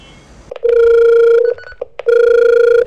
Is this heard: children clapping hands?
no